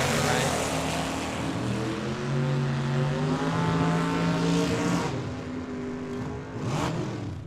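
A front-engine dragster races a Monte Carlo at Tucson Dragway, a loud, sustained engine roar with shifting tones that swells and fades slightly, close and dominating, with a commentator's voice faintly underneath.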